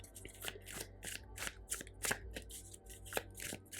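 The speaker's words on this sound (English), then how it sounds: "I'm going to shuffle them a little bit more." A tarot deck (Tarot of Mystical Moments) is shuffled by hand close up, giving quick rhythmic riffling flutters and soft card slaps in a quiet room.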